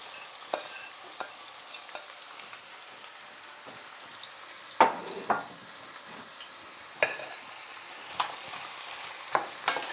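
Carrot, onions and garlic cook in a frying pan under a soft, steady sizzle, broken by sharp scrapes and clinks of a utensil stirring the vegetables at uneven intervals.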